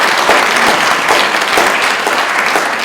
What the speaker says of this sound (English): How about applause for Ms. Odjaghian?